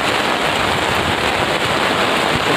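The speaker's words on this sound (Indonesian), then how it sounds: "Tuh di situ lagi hujan." Steady heavy rain pours down in Liwa, West Lampung, a dense continuous hiss of drops on surfaces with no pauses, close and loud throughout.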